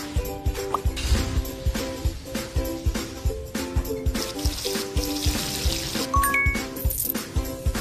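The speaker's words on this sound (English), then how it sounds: "Now, add some water," Cartoonish water pouring and trickling into a toothpaste mix in a kids' baby-care video game, running in bursts over bright plinking music and chime effects.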